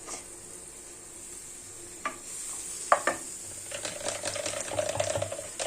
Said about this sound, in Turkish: Bu arada yağımızı da koyalım yavaş yavaş erisin.